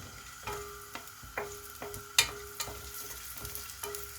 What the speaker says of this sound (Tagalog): Tapos, iprito ko muna guys ang aking carrots.